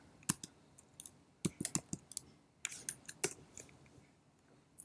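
Keys clicking on a computer keyboard, a few quick bursts of close, crisp taps with short pauses between, fairly quiet with no talk.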